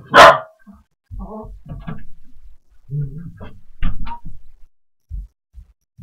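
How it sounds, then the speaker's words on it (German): A loud, close dog bark opens, followed by a series of softer barks and yips spaced irregularly. "gerade der Hund schon wieder am Bellen."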